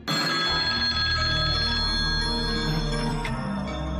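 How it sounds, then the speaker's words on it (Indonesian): An indoor telephone bell rings in a home during a drama, bright repeated ringing that fills the clip, loud and close, with no talk over it. "kalau telepon bunyi harus diangkat"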